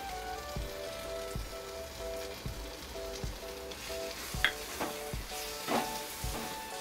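Paneer bhurji stirred in a pan over a low flame, a soft steady sizzle broken by regular scraping strokes of a spatula at a slow, even rhythm, with no talking.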